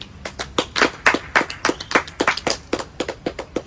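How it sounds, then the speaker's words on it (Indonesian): Clapping at a school group debate on Pancasila ideology, a steady run of sharp, distinct hand claps from a small group, fairly close and clear with no talking over it. "kita berikan tepuk tangannya untuk kubu Pancasila"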